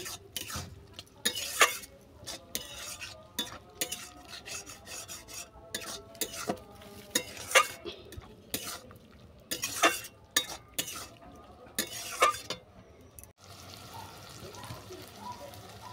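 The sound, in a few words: stirring mustard paste into frying water spinach stems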